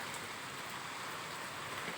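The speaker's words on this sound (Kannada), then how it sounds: "ಅಬ್ಬಬ್ಬ ಜೋರ ಬಂತು ರೀ ಮಳೆ" Heavy downpour roaring steadily as a dense, even hiss with no pauses, rain pounding surfaces close by, no voices.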